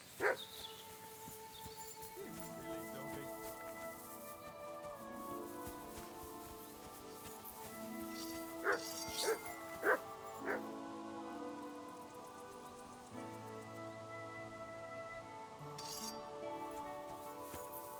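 Dog barking in Kingdom Come Deliverance II, a few short barks rising over steady rain and ambient music, moderately near, with no talking.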